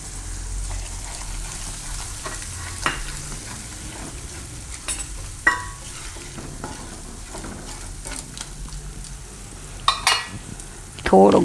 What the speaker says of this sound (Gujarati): હવે લીમડો થોડોક નાખી દેવું.